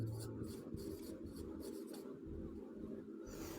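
Chalk or a marker writing on a board makes faint, close scratching strokes in short repeated bursts, with no one talking.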